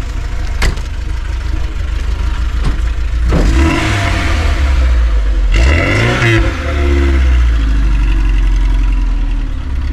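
A VAZ 2106 with a 1.6 engine revs at an outdoor car market, loud and close, with two strong throttle blips swelling and falling over a steady idle, and a few sharp knocks early on.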